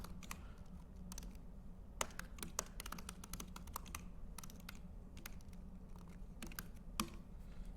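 Someone types quickly on a computer keyboard, the keys clicking in irregular bursts with a few louder taps. The sound is close and fairly quiet, with no talking.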